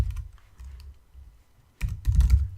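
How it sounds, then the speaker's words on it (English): Code is typed on a computer keyboard for an iOS Swift app, a few rapid bursts of close key clicks separated by a short pause, with no talking. "So we'll just type"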